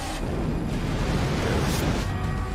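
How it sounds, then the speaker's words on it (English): Explosion in a fighter bay aboard a space station in a Babylon 5 episode, heard as a loud, continuous roaring blast with heavy low rumble filling the whole stretch. "Cobra Bay 12 explosion!"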